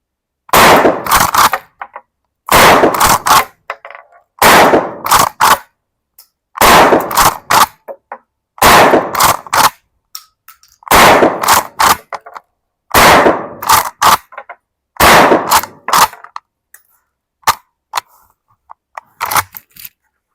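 Target rounds fired from a gun at an outdoor shooting range crack out in about nine sharp, loud bursts of several rapid shots each, separated by brief silences, with a few fainter single shots trailing at the end.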